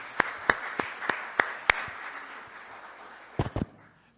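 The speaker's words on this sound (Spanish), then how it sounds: "Vamos a recibir entonces con un fuerte aplauso al profesor José Antonio Caro Young" A handful of sparse, evenly spaced claps greets Professor José Antonio Caro Young at a criminal law lecture, fairly faint, followed by a pause and a brief closing burst of two or three claps.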